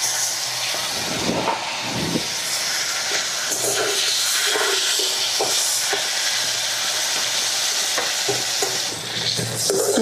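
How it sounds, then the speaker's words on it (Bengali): Freshly caught river fish frying in hot oil in a pan make a loud, dense, continuous sizzle for the full stretch, with occasional stirring scrapes over the top and no voices. "এখন মাছগুলো ভেজে নিব।"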